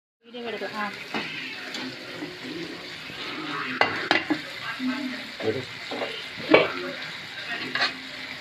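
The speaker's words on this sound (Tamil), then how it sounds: "கொஞ்சம் குழம்பு ஊற்றிக்கலாம் நல்லா கிளறிக்கிறோம்" Mutton fry being stirred in a pan as gravy goes in, with a steady sizzle broken by repeated scraping and clinking strokes of a spoon at close range; a voice speaks faintly underneath.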